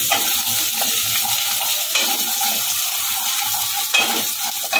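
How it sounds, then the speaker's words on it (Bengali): Shahi paneer masala sizzles and fries in a pan while a spoon stirs it, a loud, steady crackle broken by a few scraping strokes, and there is no talking over it. "হালকা একটুখানি নেড়ে নেবো।"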